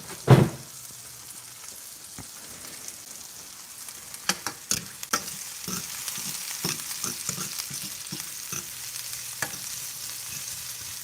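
Food sizzles and crackles steadily in hot bacon grease in a pan, with scattered pops and a sharp clatter near the start; no voices.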